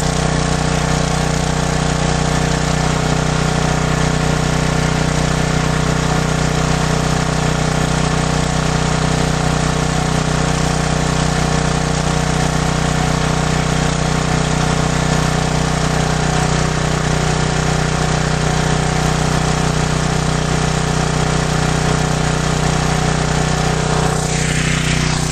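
A small generator engine running on HHO gas at a steady, loud, close drone with a constant buzzing hum throughout and no talking.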